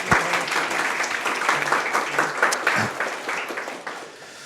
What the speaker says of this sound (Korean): 박준철 교수님 향해서 좀 파이팅으로 박수 한 번만